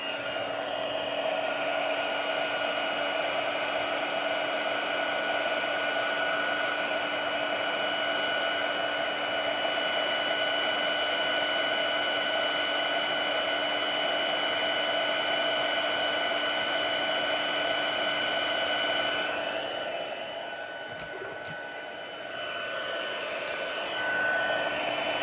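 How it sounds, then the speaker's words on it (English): A heat embossing tool blows hot air steadily to melt embossing powder, with a continuous close whirring hum like a hair dryer. It dips slightly near the end, and no one speaks. "you will start noticing it getting shiny and smooth as the heat tool melts the powder"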